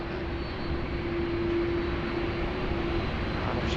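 Qantas Airbus A330-300 jet taking off at Sydney Airport: a steady, broad engine roar with a thin sustained whine, heard from a distance, no voices.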